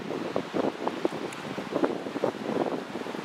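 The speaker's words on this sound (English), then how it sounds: "You can see it's really windy out here." Gusty wind buffets the microphone outdoors, a steady rough rumble with irregular bursts throughout, no voices.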